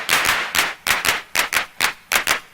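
An MFB 301 Pro drum machine plays a muted clap, eight sharp, bright hits in a steady even rhythm, each with a short decay, sounding close and clear without any voices.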